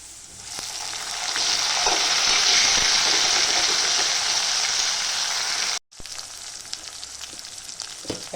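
Onion and tomato fry in hot oil in a pan with a loud, steady sizzle. The sizzle cuts out for a moment, then returns softer with small crackles.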